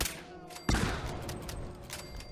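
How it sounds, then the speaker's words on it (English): Grenade blast followed by gunfire in the video game Fallout 4: a sudden loud burst of noise dense with shots that carries on as sustained rattling combat noise to the end. "We hit a grenade right there, and then take the headshot."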